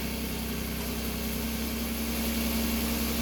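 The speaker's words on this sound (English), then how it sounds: "So go ahead and start it up." A 2005 Chevrolet Equinox, which has a brake problem, idles with a steady, even engine hum and a constant low drone, close by and unchanging, with no voices.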